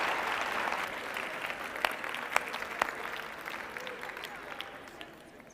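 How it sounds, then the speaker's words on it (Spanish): Applause from an audience closing a session, a dense clapping with a few sharp individual claps that gradually fades toward the end. "Damos el aplauso,"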